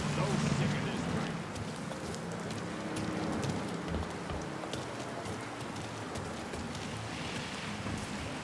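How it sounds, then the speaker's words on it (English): Steady rain falls on a city street in 1960s New Orleans, a dense continuous hiss of drops spattering on pavement that stays even throughout, with faint voices in the background. "So sick of this rain."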